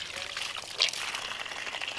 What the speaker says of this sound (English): I'm running the spigot in it just to burp the air out of it.